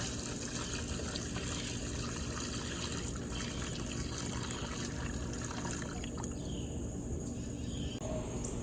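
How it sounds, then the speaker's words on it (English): Water poured into a solar-powered waterfall birdbath filled with rocks, a steady close rushing gush that runs the whole time without pause and thins slightly near the end, with no voices. "Now I need to pour the water."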